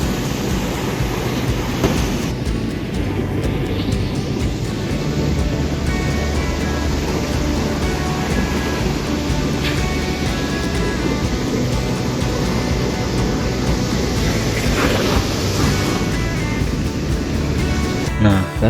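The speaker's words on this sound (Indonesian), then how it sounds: "Padahal ombaknya itu cukup besar saat menggulung ke arah tepi pantainya." Steady roar of large surf breaking and rolling onto the shore at Dlodo Beach, loud and continuous, with a brief swell of crashing water near the middle.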